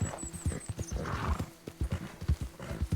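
Horse hooves clip-clop in a steady, close rhythm as a rider gallops around in Red Dead Redemption 2, with a brief whinny breaking in partway through over faint game ambience.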